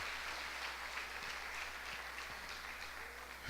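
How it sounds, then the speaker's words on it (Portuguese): A church congregation applauding: dense, steady clapping from many hands, fairly loud and continuous for the whole stretch. "Pode dar outra salva de palmas para o Senhor em nome de Jesus"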